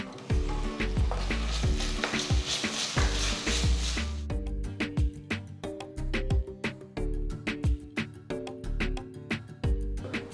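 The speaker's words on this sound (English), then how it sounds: "Saute the onions till they're a nice golden brown color" Onions with ginger garlic paste sautéing in a pan, a dense sizzle over a steady low hum, then rhythmic repeated clicks and scrapes of stirring for the second half.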